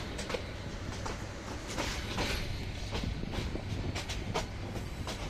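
Aboard the crowded Lalmoni Express leaving Gaibandha station, the carriage rumbles and rattles steadily, with repeated metallic clicks and clacks of wheels over rail joints over a continuous close rolling noise.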